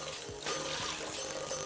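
Milk pours into a pot for payasam, a soft, continuous watery rush that rises after a brief faint start and stays steady and fairly quiet for over a second.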